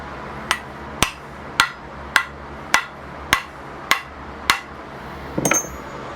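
A hammer taps an axe head of the Tasmanian pattern down onto its handle with eight evenly spaced, sharp, ringing blows about every half second. The sound is close and clear and ends with a short clatter.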